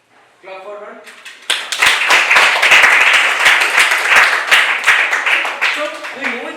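Students in a classroom history lesson break into dense, loud applause and clapping that runs for several seconds, with a voice speaking briefly before it starts and as it fades at the end.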